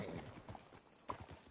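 Horse hooves clip-clopping at a steady walking pace in Red Dead Redemption 2, fairly quiet and close, with a few brief louder knocks near the end.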